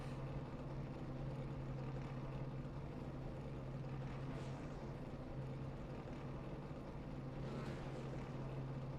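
Stock race car engines idle and rev together in a steady, loud, continuous drone with a low hum, as the field prepares to roll off before the Lone Star 150 NASCAR Xfinity Series race at Texas Motor Speedway.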